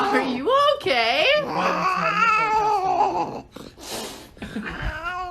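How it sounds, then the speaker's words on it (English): An angry baby cat growls and yowls in drawn-out, wavering cries, close and fairly loud, with a few breathy gasps near the end. "Whoa, that was quite the little growl."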